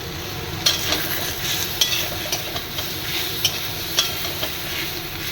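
A paste of ginger, garlic and green chilli sautés in oil, giving a steady close sizzle with regular light scraping taps of a spatula stirring the pan.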